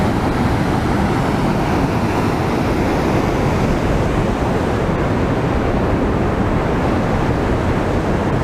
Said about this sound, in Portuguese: tô dentro da cachoeira aqui, ó.